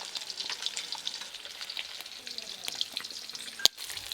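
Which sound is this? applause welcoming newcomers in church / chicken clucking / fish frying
fish frying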